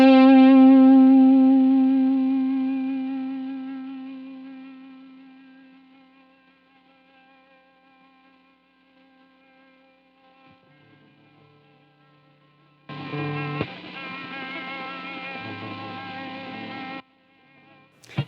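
A distorted electric guitar chord rings out and slowly fades, then a noise gate cuts the hiss, leaving near silence, followed by a short burst of buzzing, gated distorted noise that stops abruptly.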